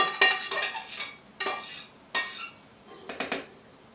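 Metal utensil scraping and knocking against the bottom of an Instant Pot to loosen cooked onions, four separate bursts of clattering scrapes with short quiet gaps between.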